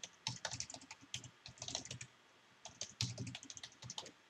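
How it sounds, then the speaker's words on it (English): Fingers tap out an email and password on a computer keyboard in quick irregular bursts of clicks, with short pauses between runs, close and clear with no talking. "you can simply type your email and your password in order to proceed with the login"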